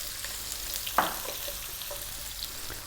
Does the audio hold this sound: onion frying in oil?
yes